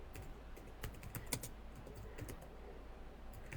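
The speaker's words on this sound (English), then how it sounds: "Sorry, I'm typing it." Fast, irregular typing on a computer keyboard, with steady clicking keystrokes close by and fairly faint, no voices over it.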